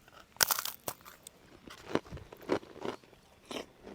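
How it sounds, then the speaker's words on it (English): Someone bites into a cracker topped with cheese from a Russian military ration and chews it up close, with sharp crisp crunches followed by irregular softer chewing sounds. "We'll take a bite."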